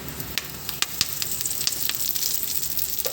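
Curry leaves and chili sizzling in hot oil for Hyderabad-style bagara rice, a close crackling fry with sharp spits and pops over a steady hiss, alone without talk.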